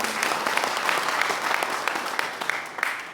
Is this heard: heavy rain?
no